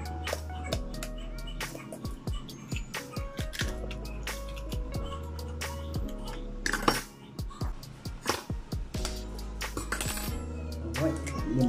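Whisking eggs into a burger patty mix in a bowl, with steady rapid clinks of a utensil against the bowl's side and scraping strokes, close and continuous.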